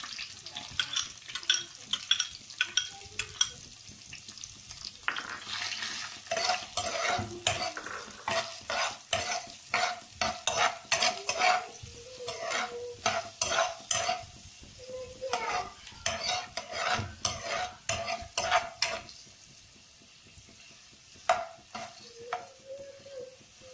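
Onions frying in coconut oil in a pan, stirred briskly with repeated clinking scrapes of a utensil over a constant sizzle, close and continuous.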